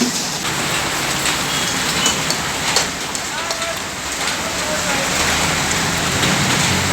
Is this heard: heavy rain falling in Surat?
yes